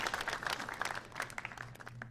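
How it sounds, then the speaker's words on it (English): An audience applauds for a Bellator women's flyweight world champion at an introduction, a brief burst of dense, fairly close clapping that tapers off after about two seconds. "Please give her a round of applause."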